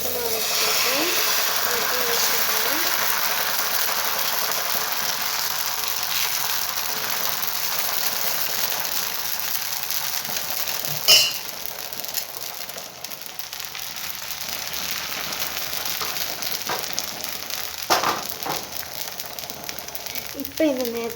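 Dosa batter sizzling in hot oil on a pan: a steady broadband hiss holds throughout, with a brief louder crackle near the middle and another toward the end.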